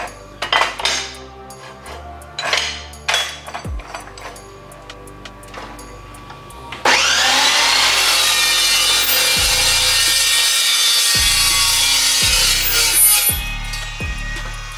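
Metal tube for a roof rack being cut with a power saw, a sustained loud, bright grinding whine running steadily through the second half after some tool clatter and knocks.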